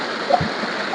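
Rain-swollen forest stream rushing over rocks in small waterfalls, a continuous close gurgling flow with a brief splash partway through.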